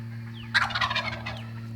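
A wild turkey tom gobbles once in a loud, rolling burst of rapid throaty notes, near and clear over a steady low background hum.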